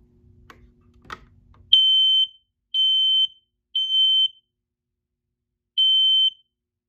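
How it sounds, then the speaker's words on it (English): Two faint button clicks, then a smoke detector in an alarm system test sounds four loud, piercing beeps in a steady pattern, with a short pause before the last one. "I'm going to activate the smoke detector by just clicking the buttons."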